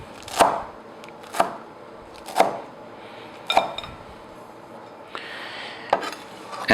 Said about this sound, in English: We come to the cilantro. We don't cut it too small.